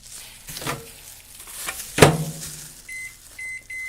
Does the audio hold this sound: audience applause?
no